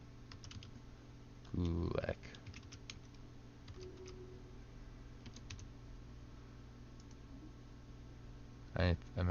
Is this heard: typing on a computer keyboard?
yes